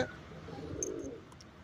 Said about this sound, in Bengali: আর ওই যে সাদা পায়রাটা যে ডাকছে,